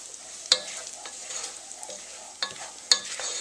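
A utensil stirs spices into sizzling bacon jam in a hot pan, soft steady frying hiss punctuated by a few sharp scrapes and clicks against the pan.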